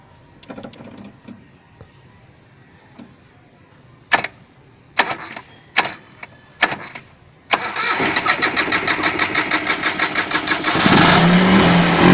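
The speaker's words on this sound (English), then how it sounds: "So as we are going to start the engine, it will take" An engine is cranked over with several short separate bursts, then catches on a longer rhythmic crank and fires up into a loud, steady running roar.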